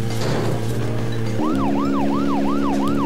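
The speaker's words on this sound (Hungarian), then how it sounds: "sose közlekedjetek szirénázó rendőrautóval a sineken" Police car siren in the Deadly Premonition video game, starting with a steady engine drone and then switching to a rapid, repeating wail over the continuous vehicle hum.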